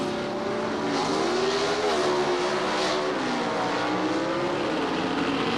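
Pro Stock drag race cars, a Hornet X and a big block Camaro, at the 1976 Gatornationals, a continuous loud engine roar with shifting pitch heard at some distance, no voices over it.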